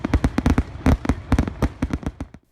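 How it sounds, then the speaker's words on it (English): Fireworks bursting during 4th of July celebrations, a rapid, loud barrage of sharp cracks and booms, irregular and overlapping, with no voices. "Fireworks are an enjoyable part of the 4th of July holiday"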